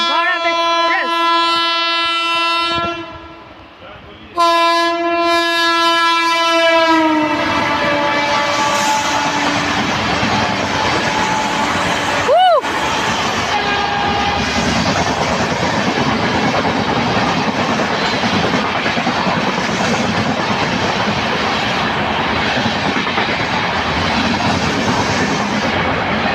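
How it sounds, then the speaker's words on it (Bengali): Amrit Bharat Express, a push-pull train with a WAP-7 locomotive, passing through Chandannagar station: a loud sustained horn blast opens, then a brief pause, another horn, and a steady roaring rumble of coaches rolling close by for the rest. "অমৃত ভারত এক্সপ্রেস।"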